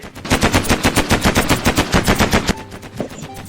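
Rapid automatic spaceship gunfire in the Mini World block game, a loud, evenly spaced burst of about twenty shots that stops abruptly, followed by quieter background game sounds.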